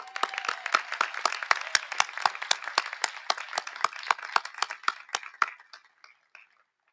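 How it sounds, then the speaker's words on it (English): An audience at a 2021 eighth-grade promotion ceremony at Sycamore Magnet Academy claps together in a brisk, even burst of applause that trails off into a few scattered claps and then silence. "Let's give him another round of applause."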